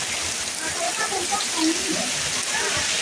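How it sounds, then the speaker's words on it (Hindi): Heavy rain pours down in a strong windstorm, a dense steady hiss of rainfall and gusting wind with no pauses, heard up close outdoors in a farming area. "बहुत तेजी से आंधी आई हुई है और जितनी तेजी से हवा चल रही है उतनी तेजी से ही बारिश हो रही है।"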